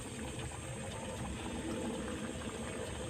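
Chicken pocket singara frying in oil over low heat, a steady dense bubbling hiss that runs without a break, close by, with no talking.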